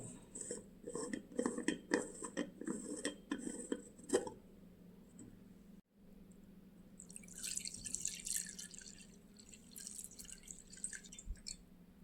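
Homemade jackfruit wine is strained through a cloth, with close dripping and trickling liquid and light clinks of a kitchen vessel, a brief pause midway, then a brighter splashy pour.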